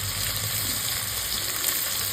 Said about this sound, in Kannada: ಎಣ್ಣೆಗೆ ಆನಿಯನ್ ಹಾಕಬೇಕು. ಫುಲ್ಲು ಬ್ರೌನ್ ಮಾಡ್ಕೋಬೇಕಂತ, ಚೆನ್ನಾಗಿ ಫ್ರೈ ಆಗಬೇಕು